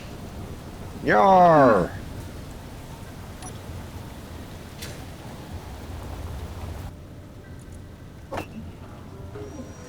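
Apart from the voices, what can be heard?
rain and thunder on a planet in the video game Space Engineers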